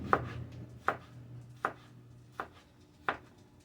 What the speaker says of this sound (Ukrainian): Ріжемо чесник.